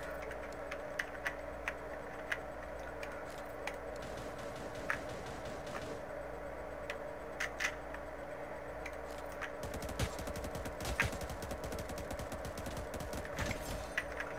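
Rapid automatic gunfire from a 75-round machine gun in the shooter video game Cyber Hunter, fired in repeated bursts over a steady game background hum, getting denser and busier toward the end.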